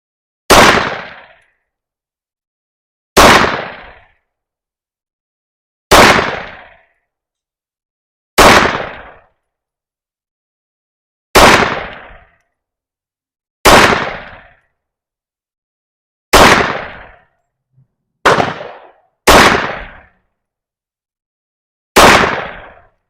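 Ten loud, close pistol shots from a Beretta Cheetah 80X at a shooting range, each a sharp crack with a decaying ring. They are spaced two to three seconds apart, with two fired in quicker succession near the end.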